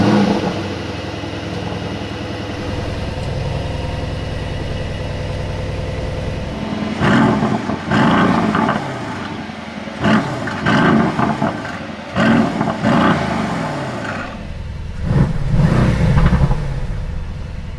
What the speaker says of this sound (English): let's start the engine to listen to this exhaust sound